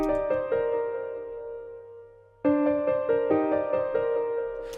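A Nexus grand piano trap melody runs through an EQ that cuts the highs and lows for a muffled underwater tone, with chords and notes pausing briefly before the phrase returns, steady and close.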